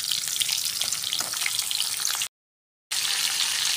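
Crab coated in salt and turmeric fries lightly in hot mustard oil, giving a dense, steady sizzle and crackle close by, broken once by a short total cutout before the sizzling resumes.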